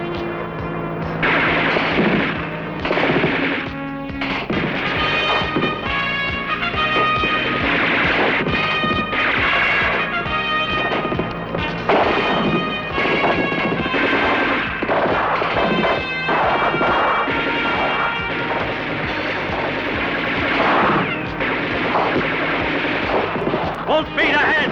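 Gunfire from the movie Supersonic Man, loud dense bursts of shots and booming blasts layered over a busy soundtrack with music, continuing steadily with only brief gaps.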